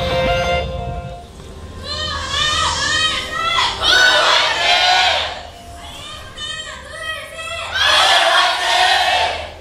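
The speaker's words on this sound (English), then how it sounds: "IM wins the cheer wars once again" A large esports arena crowd cheers and chants for team Incredible Miracle at a 2015 LCK Summer League of Legends match against KOO Tigers, loud swelling waves of shouting voices in several bursts.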